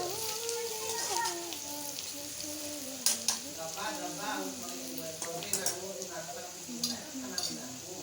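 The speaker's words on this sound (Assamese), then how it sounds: "গৰম মছলাখিনি দি পেলাই ভাজি ল'ব।" Garam masala spices fry in hot oil in a pan, producing a constant crackling sizzle with occasional sharp stirring taps while a person talks over it.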